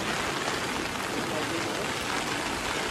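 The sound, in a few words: heavy rain falling in a hill market street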